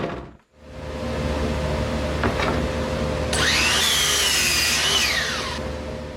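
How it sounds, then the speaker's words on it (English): A track saw makes a steady, loud whine as it flush cuts the breadboard ends of a wooden tabletop, with a rising, higher-pitched scream partway through the cut. No voices are heard. "flush cut those breadboards with the track saw"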